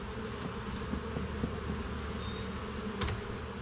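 Honeybees in an open hive of overwintered queens hum in a dense, steady buzz close by, with a single bee zipping past the listener near the end.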